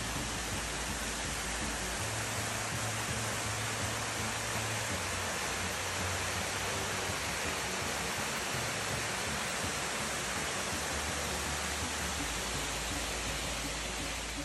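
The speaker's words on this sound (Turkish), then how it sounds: "Şimdi de başka bir şelaleye geldik." Erfelek Tatlıca Waterfalls in Sinop pour with a steady, even rush of falling water, a constant hiss heard from some distance and fairly faint, without voices.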